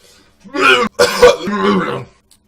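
A few harsh, throaty coughs close up, in two or three bursts with a brief pause between.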